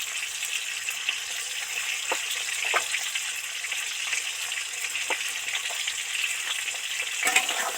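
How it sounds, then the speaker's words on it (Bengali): Potato pieces seasoned with salt and turmeric deep-frying in hot oil, a steady close sizzle with a few sharp stirring clicks scattered through, no voices. "ভালো করে নেড়ে চেড়ে মিশিয়ে ধরে ধরে ভাজতে থাকবো"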